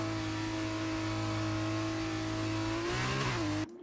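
Race car engine in F1 2023 at Belgium holding a steady, high whine before rising in pitch as it revs near the end, then cutting off sharply.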